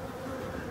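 Honeybees buzz at a hive during a February winter feeding, a steady, dense drone of many wings that holds even and close throughout with no voices.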